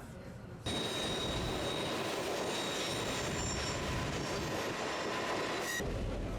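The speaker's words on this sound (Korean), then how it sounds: "기차는 아주 천천히 달리는데" Alaska sightseeing train rolling slowly along rails, a steady close rumble of wheels and car body with faint high squeal, starting abruptly and running evenly to the end.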